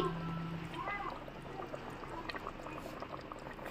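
Mutton curry simmering in a pot on a medium flame, a faint steady bubbling with low irregular pops, quiet and without any clear talking.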